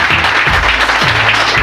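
Dense, loud applause from a crowd fills the moment, a continuous roar of clapping with a low voice faintly underneath.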